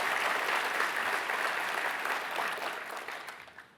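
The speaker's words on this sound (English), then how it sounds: "Let's give them a big round of applause to acknowledge their efforts too." Audience applause at a People's Association CCMC 60th anniversary gathering in Singapore, a broad steady clapping from a large crowd that holds strong, then thins and tapers off near the end.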